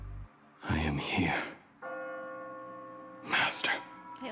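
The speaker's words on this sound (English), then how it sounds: "I also like the bells in the background too." Church bells in Honkai: Star Rail ring in the background as sustained tonal chimes that linger between bursts of nearby speech, fairly quiet beneath the talk.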